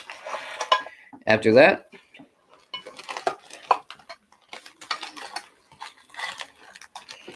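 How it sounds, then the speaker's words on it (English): Metal containers from a camping cooking kit clank and rattle in a sharp burst, with lighter clinks scattered through, while someone talks over much of it. "a cooking kit"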